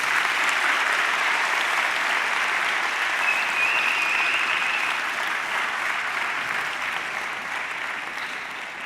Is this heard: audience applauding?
yes